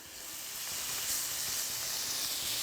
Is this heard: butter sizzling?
yes